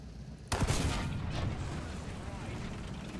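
A Chrysler TV-8 nuclear-powered tank in War Thunder fires a single loud cannon shot, a sharp blast followed by a long booming, rumbling decay.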